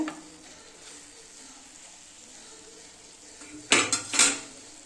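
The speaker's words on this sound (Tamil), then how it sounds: "நல்லா கிண்டிக்கலாங்க இது வந்து சீக்கிரமாகவே வெந்துடும் இந்த கீரை" Small amaranth greens being stirred in a pan for a stir-fry, with a soft continuous background and then a few loud, close utensil scrapes and clanks against the metal pan near the end.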